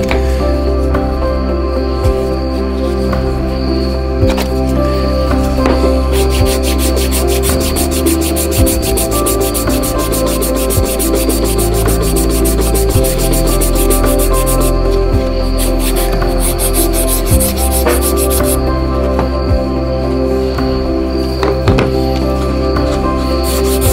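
Steady rubbing rasp of sandpaper worked over wooden knife handle scales, continuous and close with a shifting back-and-forth texture and no talk.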